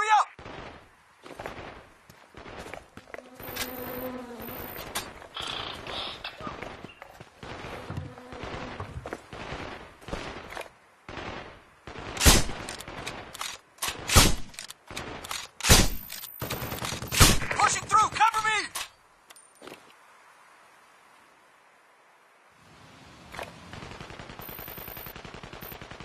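Gunfire from the video game Sniper Ghost Warrior 2: repeated sharp shots and bursts of automatic fire crack out irregularly, loud and close, thinning out before a quieter stretch at the end.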